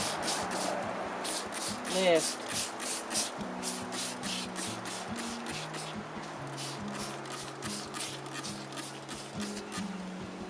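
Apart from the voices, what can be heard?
spraying leaves with a spray bottle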